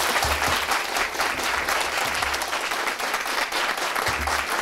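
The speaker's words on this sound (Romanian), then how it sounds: "vă mulțumesc pentru aplauze" Audience applause at the opening of an international disaster-preparedness camp run by the Red Cross in Comănești, a dense, steady wash of many hands clapping for several seconds with no pauses.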